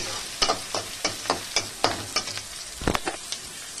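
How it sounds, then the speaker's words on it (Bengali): Onions sizzle in a pan of hot oil for a tarka while a spatula stirs them in regular scraping strokes, close and steady with no talking. "পেঁয়াজটা একটু ভাজা ভাজা হবে"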